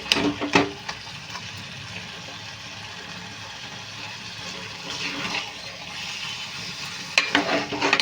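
Mango chicken curry cooking on high heat in a pan, a continuous close bubbling sizzle with occasional stirring scrapes and clatters, no talk.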